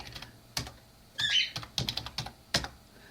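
Typing on a computer keyboard while writing code in TempleOS: a few separate keystrokes, then a quick cluster of clicks and a final tap, close and clear in a quiet room.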